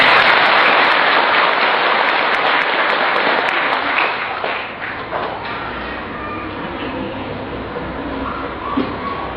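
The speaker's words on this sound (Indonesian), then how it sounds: "Tepuk tangan dulu." Crowd applause at a religious sermon gathering, a dense steady wash of many hands clapping that holds loud at first, then eases slightly and carries on without a break.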